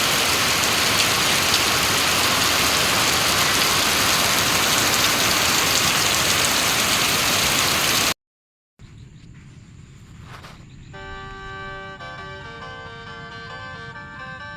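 Rain falling on flooded rice fields, a dense, loud hiss for about eight seconds that then cuts out abruptly.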